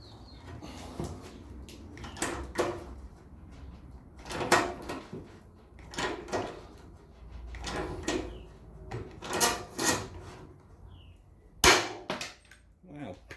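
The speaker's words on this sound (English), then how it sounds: "we'll go with a hand riveter and see if that'll do it" Hand riveter used on a Land Rover Series and Defender seat box, giving several close mechanical clacks and snaps in uneven bursts, with one sharp pop near the end, mixed with quiet talk.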